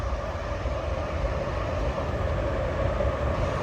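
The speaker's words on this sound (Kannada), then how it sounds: "ಅಲ್ಲಿ ಬುಲೆಟ್ ಟ್ರೈನ್ ಹೋಗ್ತಾ ಇದೆ." A bullet train passing in China, heard as a steady, loud broadband rumble and rush that holds evenly throughout, with no voices.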